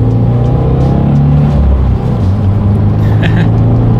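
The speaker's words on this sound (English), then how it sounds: "now I'm going to do a quick little acceleration" A 2018 Subaru WRX accelerating hard, its engine droning loud and close, with a gear change around the midpoint and the pitch climbing again afterward, and a faint high whistle near the end.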